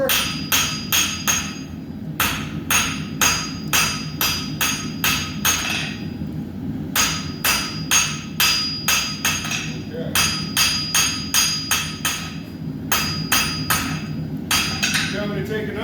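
Hammer forging hot steel into a taper on an anvil at a blacksmith forge, delivering sharp ringing blows in quick bursts of several strikes separated by short pauses, loud and close over a low roar from the forge.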